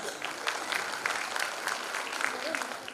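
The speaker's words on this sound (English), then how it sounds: "Please welcome Mrs. Sabah Khan with a huge round of applause." Audience at a school annual event applauds, a dense, steady wash of many hands clapping at moderate distance for several seconds.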